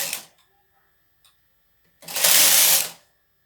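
A knitting machine's lace carriage sweeps across woollen knitting in one loud, rushing pass lasting about a second. A short burst of mechanical noise and a faint click come before it, and a thin steady hum runs underneath.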